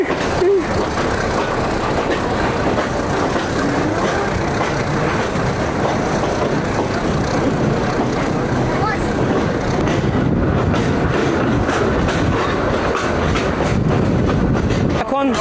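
Steady rumble and rattle of a slow passenger train on the Kurigram to Chilmari line, heard from on board the swaying coaches, with voices talking faintly beneath the constant rolling noise.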